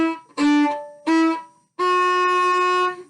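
A violin plays two short bowed notes followed by a longer sustained note, moving from D up to E with a hooked bow, clear and close with no talking.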